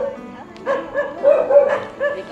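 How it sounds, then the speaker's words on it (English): Several dogs bark and yip across a Philippine neighborhood at night, overlapping in uneven bursts at moderate distance, loud and persistent with no talk over them. "That's all the dogs in the neighborhood."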